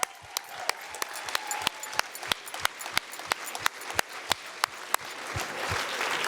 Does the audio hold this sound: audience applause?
yes